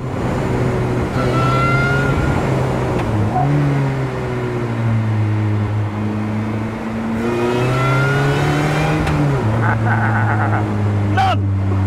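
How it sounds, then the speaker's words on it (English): Supercharged engine of an Ariel Nomad revving and accelerating hard with no sound deadening, a loud, sustained drone climbing in pitch through two long pulls with a shift between them, heard close from the cockpit. "is a car with a supercharger. They just sound wicked."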